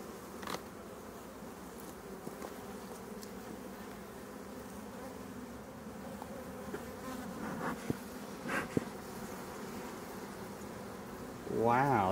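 A dense swarm of honey bees hums continuously around an opened beehive, a steady close buzz with individual bees zipping past, while people talk quietly nearby.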